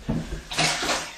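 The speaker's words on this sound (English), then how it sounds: "I'll just wash my hands and make this milky and we'll go down the sink" Running water splashes and swishes in a sink as hands are rinsed clean of caulk, close and fairly loud, with uneven surges of flow.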